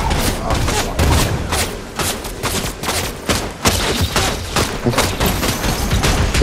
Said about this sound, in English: I'm dead, so I see NPCs still shooting at me.